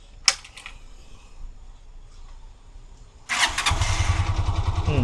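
A Honda TMX 125 Alpha motorcycle, freshly fitted with a new Denso spark plug, fires up on a single push start after a brief click, then settles into a loud, steady, close idle with a rapid even pulse.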